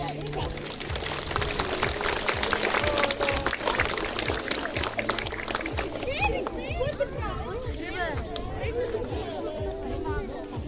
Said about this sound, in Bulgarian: Аплодисменти за класните ръководители и учители.